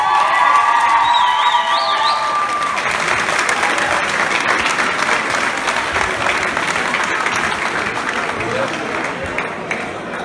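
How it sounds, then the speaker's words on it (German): Sustained applause from a ballroom crowd at a Kathreinenball dance event honouring a winning dance group, loud and continuous for about ten seconds, with cheering, whoops and children's shouts mixed in. "Großen Applaus!"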